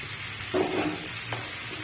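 Bori lentil dumplings frying in oil, a soft steady sizzle up close with a couple of brief stirring scrapes.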